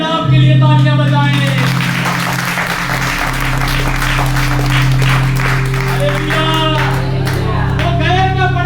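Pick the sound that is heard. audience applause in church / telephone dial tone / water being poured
audience applause in church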